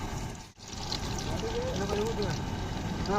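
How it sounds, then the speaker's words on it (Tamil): Cooking oil is poured into a hot pan outdoors during a trip-side cooking session, a steady liquid trickle and pour heard under people talking nearby. "எண்ணெய் எடுத்து ஊத்துங்க."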